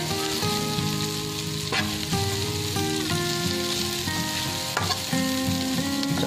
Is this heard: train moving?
no